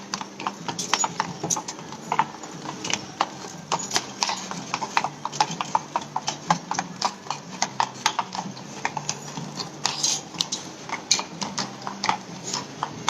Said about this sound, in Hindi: और ये बग्गी आ रही है, घोड़े की बग्गी।